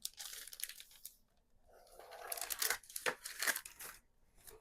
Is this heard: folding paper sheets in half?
yes